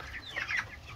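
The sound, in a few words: chickens clucking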